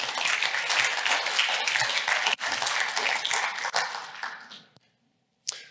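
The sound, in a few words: audience applause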